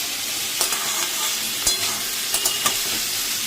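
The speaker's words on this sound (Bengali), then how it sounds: "পেঁয়াজটা তেলের মধ্যে দিয়ে ভাজছি।" Onion frying in hot oil for a goat meat curry: a bright, continuous sizzle with a few sharp stirring scrapes and pops, close and fairly loud.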